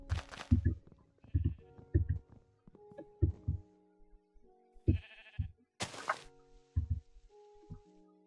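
Goat bleating in a modded video game: several short, nasal bleats rise between repeated low, thudding pulses, with synthetic tones and sharp bursts of noise interrupting at intervals.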